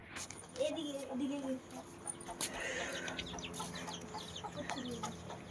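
Chickens clucking in a home vegetable garden where they damage the plants: a few short clucks and calls over background noise, with a person talking quietly nearby.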